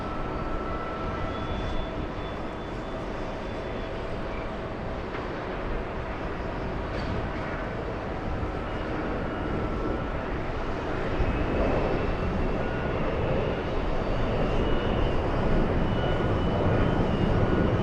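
A Sun Country airliner takes off from runway 22 Right at JFK airport, a steady, fairly distant broadband engine roar that swells slightly louder toward the end, with no voices.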